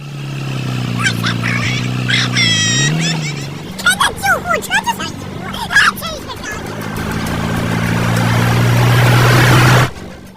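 A car in a racing film speeds away at full throttle, its engine rising in a loud swelling roar near the end after a stretch of voices and other film sounds.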